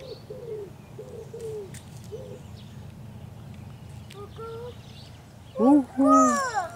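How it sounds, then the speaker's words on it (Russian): A pigeon gives a few soft, low coos at a steady pace, followed by a burst of higher bird calls near the end. "Это голубь"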